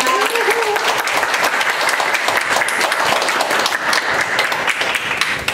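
Sustained applause from a press conference audience greeting WBA super featherweight world champion Choi Hyun-mi, held in 2022 at the Yonsei University alumni hall; dense, loud clapping runs steadily throughout without a break.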